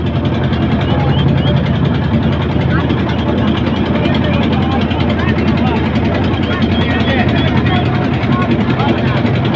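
A river trawler's engine on a long river crossing in Narail drones loud and close, a dense, unbroken rumble holding steady throughout.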